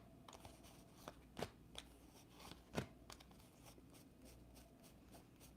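Tarot or oracle cards being shuffled in clumps, quiet soft riffling and scraping with a few sharper slaps standing out, fairly close and without any talking.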